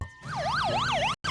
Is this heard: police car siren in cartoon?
yes